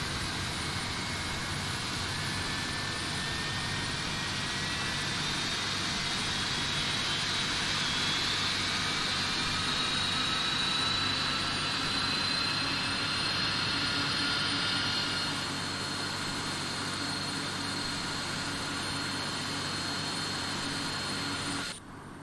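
A Boeing 767-300ER jet engine spooling up during start in a flight simulator, a loud steady turbine roar with a rising whine that holds for a long stretch before cutting off abruptly at the end.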